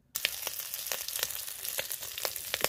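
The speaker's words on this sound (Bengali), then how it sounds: "চিংড়ি মাছ ভাজবো" Shrimp frying in a little oil in a wok, a steady close sizzle with sharp crackling pops scattered throughout.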